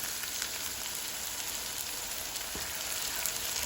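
Sweet soy sauce, ABC brand, hitting a hot wok of chicken and shrimp fried rice gives a steady, close, even sizzle and crackle that holds without a break, with no one talking.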